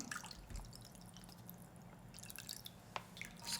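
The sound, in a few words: water dripping from squeezed soaked shiitake mushrooms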